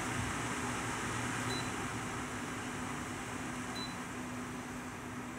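A Celcia WAP-02EA20 portable air conditioner runs on its highest fan setting, giving a steady, fairly loud whooshing airflow with a constant low hum underneath and no talking.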